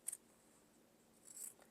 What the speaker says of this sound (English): I'm just going to take my scissors and I'm just going to snip down the middle